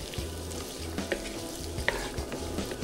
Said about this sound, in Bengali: এবার ঠিক 10 থেকে 15 সেকেন্ড ভেজে নেওয়ার পর